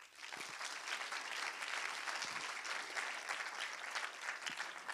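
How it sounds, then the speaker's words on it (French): Applause from a seated audience at an award ceremony in a theatre hall during the Cannes Film Festival, steady and dense for about five seconds at moderate distance, with no talking over it. "on peut l'applaudir"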